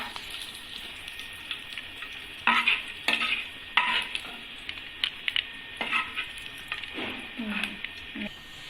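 Ingredients for sheer kurma fry in a pan with a broad sizzle, while a spoon scrapes and knocks against the metal in irregular bursts, close and moderately loud.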